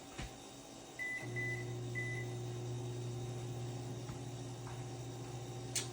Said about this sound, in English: I have some butter in the microwave. I'm going to heat that up, melt that.